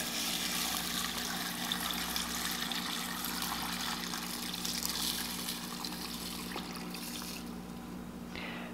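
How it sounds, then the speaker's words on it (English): Salt brine made with non-iodized pickling or kosher salt is poured into a jar, a steady, unbroken splashing pour heard up close for several seconds, with no voices. "And we're just going to pour it in."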